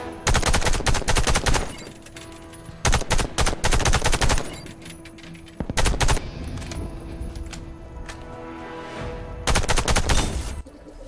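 Bursts of rapid gunfire at targets in the Warface shooter game, several loud volleys separated by short pauses with a quieter background hum between them.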